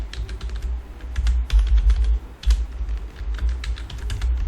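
Rapid clicking of keys on a computer keyboard as an SQL query is typed, a steady run of close, light taps with brief pauses and no speech.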